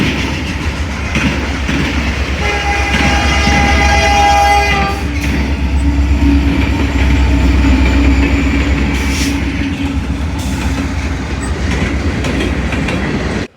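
A freight train led by an SD75M locomotive, with BCOL 4642 trailing second, rumbles loudly past a crossing. A sustained horn blast sounds early, followed by continuous rolling rail noise and faint wheel squeal.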